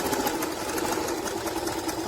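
A Singer Talent 3321 sewing machine stitching at a short stitch length, giving a steady, fast mechanical whir with a rapid needle rhythm, close and continuous throughout.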